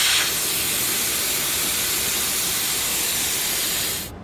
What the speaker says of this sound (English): let's deflate the tyre